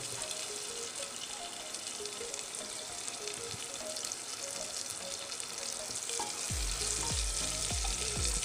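Chopped onion frying in a pan for masala rice and dal khichdi, a steady sizzle that swells louder near the end, where a few scraping stirs of the spoon come through.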